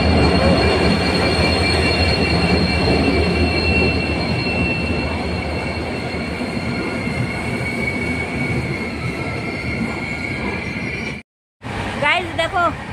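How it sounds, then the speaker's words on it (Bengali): A train pulls into a station with a continuous loud rumble and high wheel squeal, steady for most of the time, then a brief dropout before the rolling noise returns. "ট্রেন ঢুকে গেল।"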